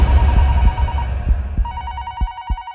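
A telephone rings in repeated clipped bursts, loud and close, over low thuds and a dense background rumble.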